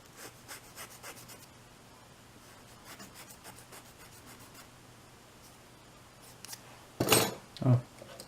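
A plastic part from a 1:24 scale 1960 Corvette model kit is filed down, with quick light rasping strokes in bursts, then quieter scraping and a couple of louder knocks and rustles near the end.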